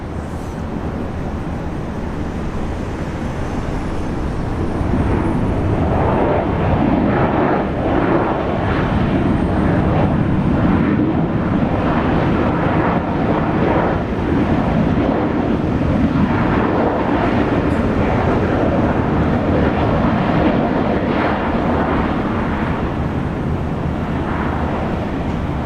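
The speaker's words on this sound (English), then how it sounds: "Sounds like an A330 there." Airbus A330 airliner at Brisbane International Airport, a loud, steady broadband jet roar that builds after the first few seconds and holds for the rest, with some wind rumble.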